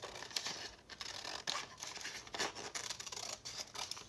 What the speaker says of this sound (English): I'm just going to cut down through here.